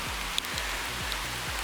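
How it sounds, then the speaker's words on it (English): Rain falls steadily in a garden, a soft continuous hiss of drops on leaves and surfaces with occasional slightly louder drips, fairly quiet and even throughout, with no voices. "And it's totally raining."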